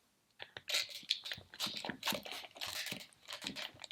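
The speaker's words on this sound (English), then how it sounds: "And I got my trusty scissors." Scissors cut through a cardboard egg carton close by, giving quick bursts of crunching, crinkling snips with short pauses between them.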